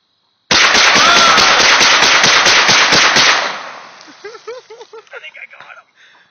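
Rapid bursts of semi-automatic rifle fire aimed at a turtle, a loud, dense string of close shots lasting about three seconds, then trailing off into scattered splashes and water noises.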